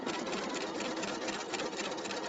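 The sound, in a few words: Pfaff sewing machine straight stitching back and forth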